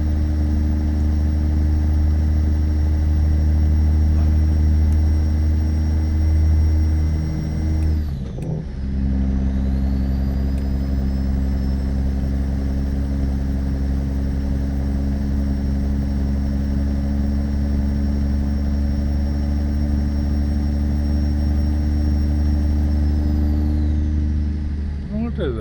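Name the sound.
truck engine turbo whine in American Truck Simulator video game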